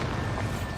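A Bombarda blasting spell explodes in the wizarding game Hogwarts Legacy: one brief, heavy, booming blast, loud and close.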